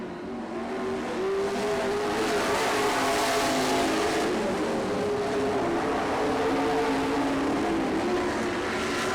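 Race cars roar through a heat race on a track, a loud continuous engine drone with steady pitch sweeps as machines pass, filling the whole stretch.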